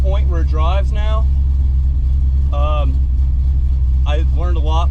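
A 1991 Ford Fox body Mustang with a rebuilt engine, new cam and heads, idles with a deep steady rumble while someone talks over it in several short bursts.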